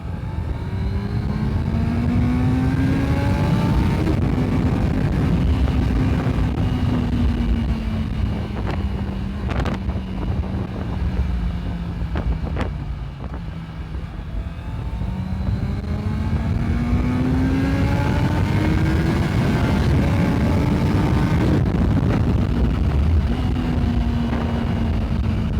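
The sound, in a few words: Honda CBR650F motorcycle exhaust note while riding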